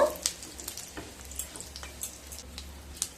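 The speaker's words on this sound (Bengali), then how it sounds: "এবার দিয়ে দেব 2টো শুকনো লঙ্কা, আর দিয়ে দেব 1/2 চামচ গোটা জিরে। একটু নেড়ে নেব।" Two dried red chillies and half a spoon of whole cumin crackle and sizzle in hot oil, stirred with a spoon; soft frying hiss with scattered small pops and scrapes, close and fairly quiet.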